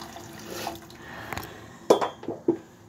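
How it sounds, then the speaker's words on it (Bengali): Hot water goes into a cooking pot of simmering food, heard as a few short, close splashes and drips near the end after a quiet kitchen background. "আমি এখন গরম পানি দিয়ে দিলাম"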